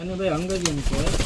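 Pigeons coo in a loft housing about thirty birds, a soft, wavering, throaty call that is close and steady for most of a second before voices and shuffling noises take over.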